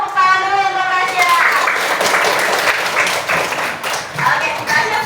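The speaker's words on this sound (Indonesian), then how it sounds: "Kasih tepuk tangan dulu untuk Rasya" Students in a classroom clap for a classmate who gave a correct answer, a burst of applause over a few seconds, with a teacher's voice heard at the start.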